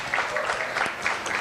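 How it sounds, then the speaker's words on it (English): Applause from the attendees at a church family service, a steady wash of clapping that holds through the short moment, fairly close and moderately loud, with no clear speech. "Give yourselves a round of applause."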